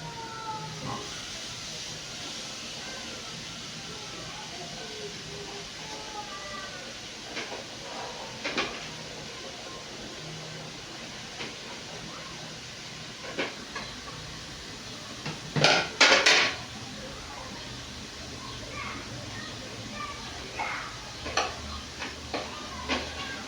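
Pineapple slices fry in a non-stick pan with a soft, continuous sizzling hiss, punctuated by occasional light clinks and a brief louder clatter of utensils.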